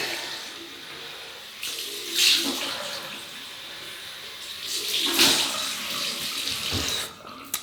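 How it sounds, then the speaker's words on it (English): Cold water runs from a tap for a rinse after a shave, a steady close splashing hiss with a few louder gushes as the stream hits the sink. "Rinse, cold water."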